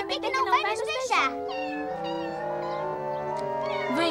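Cartoon kittens meowing in a high, wavering series of cries at the start, followed by sustained tonal sound with a voice speaking in Portuguese.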